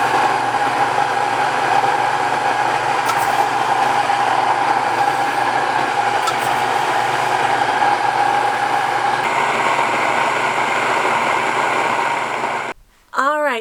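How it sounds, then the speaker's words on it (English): A home grain mill grinding wheat berries between stones gives a steady, loud mechanical whine and rumble for most of the span, then cuts out abruptly near the end, followed by a short ringing tone. "Now you always start your mill first so that the berries don't bind up the stones."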